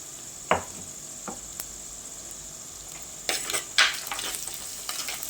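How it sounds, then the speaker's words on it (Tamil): Crushed spices and onion sautéing in oil for a stingray fish curry, a soft sizzle punctuated by a few stirring scrapes and a busier burst of clattering stirring near the end. "இடித்து இப்போது வெங்காயத்தில் சேர்த்துக்கலாம். சேர்த்து நல்லா எண்ணெயில் வதங்கணுங்க"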